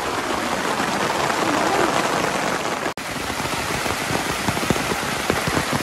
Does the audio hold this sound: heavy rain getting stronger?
yes